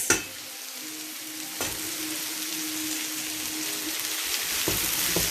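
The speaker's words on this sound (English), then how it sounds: "Don't forget to stir." Marinated beef sizzles and fries in a pan while being stirred, a steady crackling hiss with occasional utensil clinks, close and moderately quiet.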